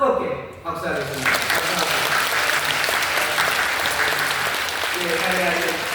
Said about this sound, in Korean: 마음으로 뜨겁게 박수하겠습니다